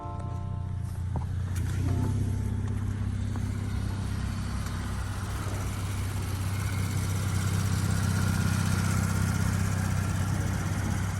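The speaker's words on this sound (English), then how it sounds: "We'll go ahead and start it up. I'll give you guys a quick exhaust clip here." A 2020 Porsche Panamera with about 50,000 miles idles after starting, its exhaust giving a steady, close, loud rumble that holds evenly throughout.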